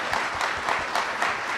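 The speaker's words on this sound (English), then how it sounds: "Let's give them a round of applause, gentlemen" An audience at the Governor's Award for Excellence in Global Trade gives a round of applause, a brief, moderately loud patter of many hands clapping together, with no voices over it.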